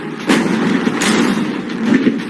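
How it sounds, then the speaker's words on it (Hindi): Gunshots fired at a container ring out as three loud, separate blasts roughly a second apart, close and booming, with no talking. "पर पहले बाकी शॉट्स फायर कर लेते हैं।"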